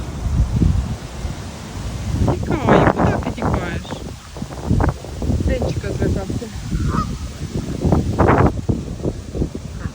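Geese honk repeatedly in loud, overlapping calls close by, with people talking and outdoor wind rustle mixed in.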